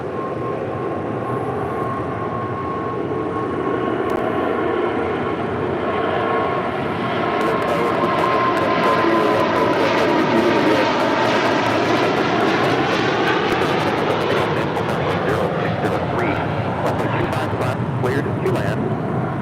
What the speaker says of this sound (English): That was Nippon Cargo Airlines